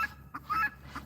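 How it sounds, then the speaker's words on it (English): A homestead goose gives a few short nasal honks, moderately distant and fairly faint against a quiet background. "I know y'all can hear Goose as usual"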